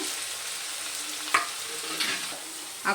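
Finely chopped onion fries in a pan with a steady broadband sizzle, broken by a few soft stirring scrapes, close and moderately quiet, with no voices.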